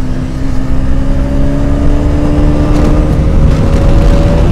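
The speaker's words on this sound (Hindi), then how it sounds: "ये लो कैसे भगा रहे हैं बाइक" Motorbikes accelerating hard during a road race among a group of eight bikes, a loud close engine drone with rising pitch as they pull away, wind noise over it.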